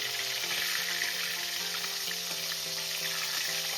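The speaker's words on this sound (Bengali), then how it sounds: "এভাবে আমি মাছের মাথাটা ভেজে প্রথমে তুলে নিচ্ছি" A hilsa fish head frying in hot oil, a steady, loud, continuous sizzle heard up close with no speech over it.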